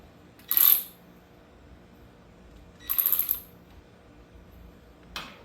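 A cordless battery-powered ratchet drives a brake bracket bolt during a Powerstop brake install on a Factory Five Mk4. Two short, bright whirring bursts, the second pulsing, are followed by a brief click, with near silence between.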